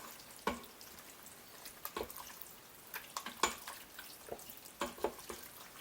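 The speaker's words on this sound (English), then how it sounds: "Give it a stir." Chicken pasta with carrots and red wine gets stirred in an Instant Pot, with faint soft scrapes and wet clinks of a utensil at irregular intervals over a quiet background and no talking.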